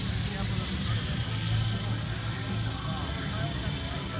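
An RC helicopter's buzzing rotor and motor drone steadily, with a low hum underneath and a fairly close, constant whine throughout, during a dual demo flight of a Trex 800 and a Raptor.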